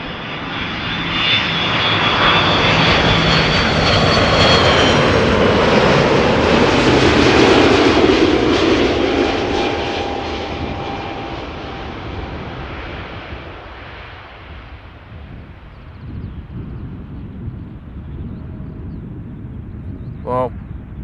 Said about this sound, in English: Well, textbook A330, isn't it? Little wheelie to boot.